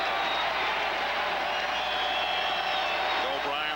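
A steady roar from the football crowd at Mile High Stadium in Denver during a 1985 Dolphins at Broncos game, a broad, distant wash of cheering that stays even throughout.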